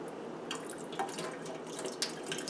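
Water from a tap flushes through an N95 respirator mask held under it, a steady splashing hiss with a few sharper drips and spatters, close and alone.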